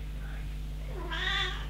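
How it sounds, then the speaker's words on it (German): A house cat gives a single drawn-out meow near the end, moderately close over a steady low hum in an indoor room. "Wir haben auch eine Katze hier rumlaufen."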